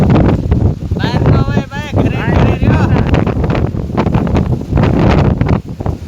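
Strong cyclone wind buffets the microphone in a steady roar, raising dust, with no rain, while someone talks loudly over it outdoors in a Gujarati village.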